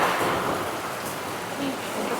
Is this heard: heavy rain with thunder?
yes